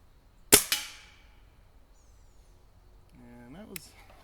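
A Benjamin NP Trail air rifle fires one sharp, loud crack followed by a quick second report or echo, then quiet; a bird chirps faintly nearby a few seconds later.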